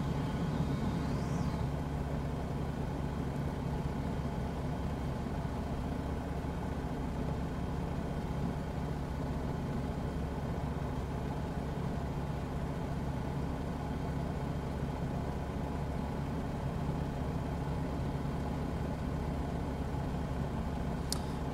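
Kitfox Fox 2 light aircraft engine in a flight simulator, running hard at high revs with a steady, continuous drone that holds unchanged throughout.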